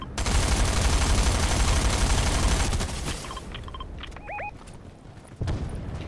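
Rapid gunfire in the video game Fortnite rattles out in a dense, loud burst for about three seconds. It thins into scattered shots and game effects with a few short rising tones, then a final heavy burst hits.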